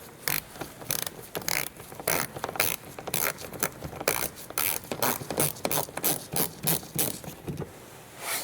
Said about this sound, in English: We are using 10mm socket.